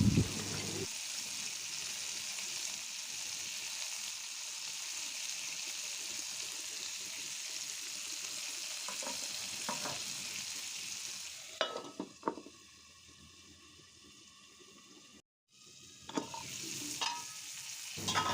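Dried fish cooks with tomato and salt in a pan over medium heat, giving a steady sizzle with repeated scraping strokes of stirring. Near the end a brief silence breaks in before the frying noise returns.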